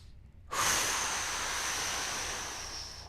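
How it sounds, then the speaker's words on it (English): A single long, close inhalation during a floor breath-work and mobility exercise, starting abruptly after a brief quiet moment and trailing off slowly. "Breathe in."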